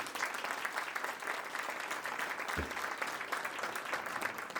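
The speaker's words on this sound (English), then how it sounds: "Let's give all this group a round of applause" Steady, sustained applause from guests at a county Republican club Christmas dinner, a dense wash of clapping filling the room at an even level with no talk over it.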